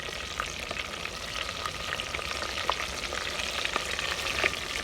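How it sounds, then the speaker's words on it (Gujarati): Brinjal pieces shallow-fry in a pan for Surat-style green undhiyu, producing a continuous close crackling sizzle with small popping bursts and no voices. "તો મિત્રો શેલો ફ્રાય તમે કરી શકો છો આ રીંગણને"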